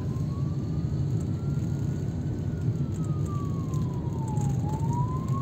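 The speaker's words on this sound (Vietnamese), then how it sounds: "Xe cứu thương ta còn hú nữa" An ambulance siren wails as it rises and falls slowly, heard from a vehicle driving on a Ho Chi Minh City expressway toward the Thu Thiem tunnel, over steady low road and engine rumble.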